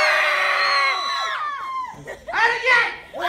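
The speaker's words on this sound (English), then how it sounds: "give me the loudest freaking scream you've ever done in your life" A live crowd at a book tour event lets out a long collective scream that rises and then trails off, followed by scattered cheers and whoops.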